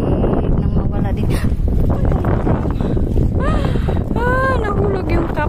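Strong wind buffeting the microphone at sea near Tortoise Island by Hoi Ha during a kayak trip, a constant loud rumble throughout, with a voice talking over it.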